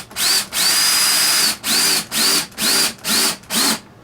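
A power drill drives screws into the sill logs of a model log cabin foundation, sounding as a long whirring burst followed by five short, evenly spaced bursts, close and loud, with no talking.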